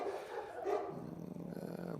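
A police service dog barks nearby with a gruff, growly tone, set against a noisy background.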